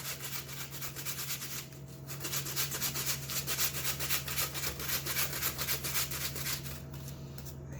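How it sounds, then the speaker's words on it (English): Two apples being grated for apple brownies, a steady close scraping rasp that runs almost continuously with a brief pause, over a low kitchen hum. "I'm grating in 2 apples."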